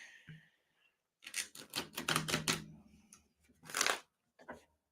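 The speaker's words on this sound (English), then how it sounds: "I'm going to shuffle up my cards" Tarot cards are shuffled in a few quick riffling bursts, close and fairly quiet, with short pauses between the bursts and no talking.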